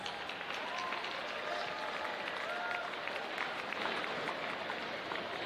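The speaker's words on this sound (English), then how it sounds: "That definitely deserves a round of applause" Dense, sustained applause from a large crowd, steady and loud throughout, with no break in the clapping, at a varsity girls basketball game.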